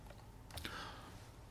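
A few quiet, close taps on the arrow keys of a computer keyboard while moving between spreadsheet cells, with no talking.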